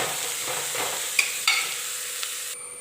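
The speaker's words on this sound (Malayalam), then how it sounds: "പാകത്തിനുള്ള ഉപ്പും കൂടെ ചേർത്ത് കൊടുത്തിട്ട് ഒരല്പ സമയമൊന്ന് വഴറ്റിയെടുക്കാം" Onions sautéing with salt in a pan for a quick egg curry, a steady soft sizzle with a few sharp spoon scrapes and clinks against the pan, close and alone without talk.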